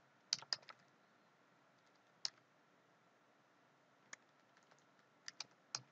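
Someone types a Docker command on a computer keyboard in a quiet room, with sparse, faint individual key clicks, a small cluster at first and then scattered presses, and no voice.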